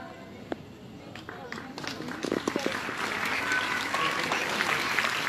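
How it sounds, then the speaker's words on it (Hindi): Audience applause builds at the closing of a girls-only Arya Veer Dal training camp, starting sparse and swelling into steady, dense clapping from a crowd, with voices and background talk mixed in. "बहुत सुंदर, तालियां बजाइए"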